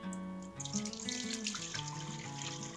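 Water pours steadily from a tap into a large saucepan, a continuous splashing stream with a rising tone as the pan fills, quiet and close.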